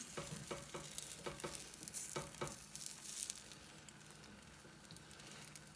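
An omelette frying in butter in a pan gives a soft, steady sizzle with a few light clicks and scrapes near the start, quiet and close with no voices.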